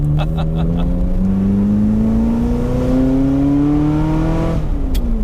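A Ferrari fitted with a new straight-pipe exhaust drives and accelerates, its engine note climbing steadily in a loud, close, droning rise before easing off near the end.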